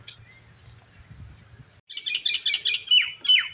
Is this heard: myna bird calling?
yes